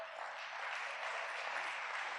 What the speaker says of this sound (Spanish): Le podemos dar un fuerte aplauso a nuestro grupo de alabanza